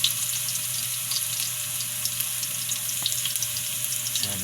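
Garlic sizzling in hot cooking oil, a steady close crackle and hiss with small pops throughout, ending with a brief shift as it is stirred.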